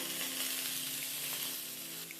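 Diced tomatoes, seeds removed, drop into a hot frying pan and sizzle loudly and steadily, a close, continuous crackle of frying with no talking.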